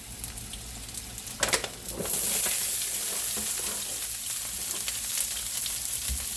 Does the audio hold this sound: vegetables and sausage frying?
yes